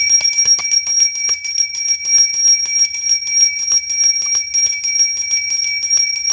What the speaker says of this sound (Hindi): अब हम सबसे पहले जो है घंटी की ध्वनि करेंगे।